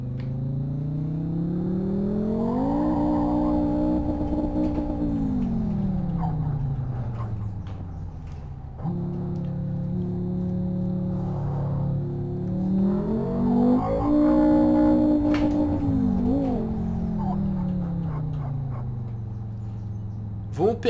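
A Fiat Marea 2.0 Turbo 20V engine in the racing game Live for Speed drones loud and steady, its pitch climbing and falling as it revs up and eases off across the run, with a brief dip partway through.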